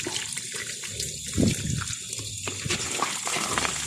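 Water runs from a tap into a bowl to give a hungry cat a drink, a steady splashing stream with a brief louder gush partway through, close by and with no talking over it.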